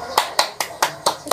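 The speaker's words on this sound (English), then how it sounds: "Let's give them a round of applause again." Six sharp, evenly spaced hand claps in a classroom during a teacher's demo lesson, crisp and close, with no talking over them.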